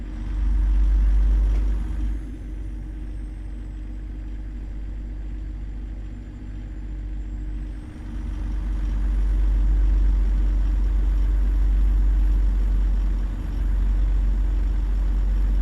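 A loaded semi truck in American Truck Simulator drones with a steady, loud engine rumble under throttle, dipping briefly midway before swelling back to a sustained roar.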